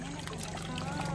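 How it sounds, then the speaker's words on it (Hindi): River water flowing and trickling as a mango is rinsed in the current in a village, a close, continuous splashing burble with a voice talking over it. "इस आम को जो है यहाँ से धो लेते हैं ये बहते हुए पानी से।"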